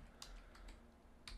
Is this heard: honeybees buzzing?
no